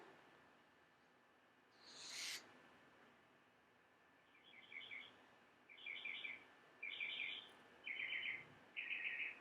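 Small birds chirp in short, repeated bursts of high twittering, growing more regular toward the end, over a quiet background with one louder call early on.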